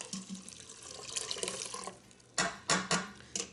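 Plant-based milk is poured back into an Instant Pot while making Greek-style yogurt: a soft liquid trickle followed by several louder splashing bursts close by.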